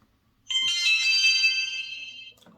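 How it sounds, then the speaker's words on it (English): A single electronic tone sounds after silence from a plug-in indoor wireless security camera starting up, a bright sustained beep lasting nearly two seconds, then cuts off, followed by a faint click. "I heard a beep"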